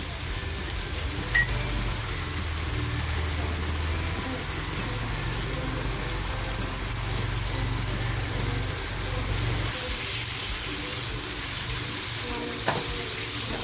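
Crushed garlic fries in a pan with a steady, broadband sizzle that stays fairly loud and even throughout, with a couple of faint clicks.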